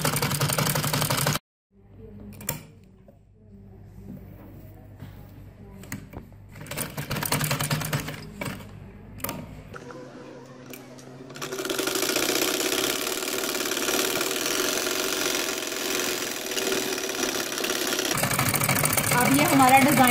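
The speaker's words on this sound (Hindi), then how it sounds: "इसी तरह मैं इसकी डबल सिलाई लगाऊंगी।" A sewing machine double-stitches lace onto a poncha, starting with a few short stitching runs and then settling into a long, steady mechanical whir with rapid needle ticking, close by, as someone speaks over parts of it.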